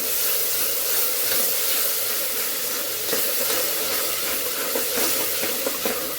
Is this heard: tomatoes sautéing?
yes